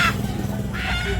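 A free-roaming chicken gives a short burst of clucking calls, loud and close, with a brief pause before a second call near the end.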